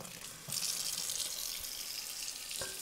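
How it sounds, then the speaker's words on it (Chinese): Water pours from a tap over pig blood being washed, a soft gushing splash that starts abruptly and runs steadily close by, with a small knock near the end. "倒啲水去啦"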